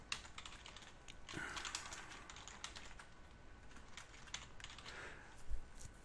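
Quiet, rapid typing on a computer keyboard while writing code, with a steady run of light key clicks and a few heavier thumps, close but faint, with no talk.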